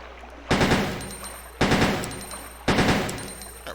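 Three close bursts of rapid gunfire from a weapon in burst mode in Resident Evil 2, each a quick rattling volley that trails off before the next, evenly spaced about a second apart.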